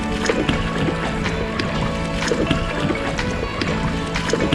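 Steady splashing and gurgling of water as kayak paddles dip rhythmically beside a small rented boat at Cola Beach, Goa, with a faint background hum throughout.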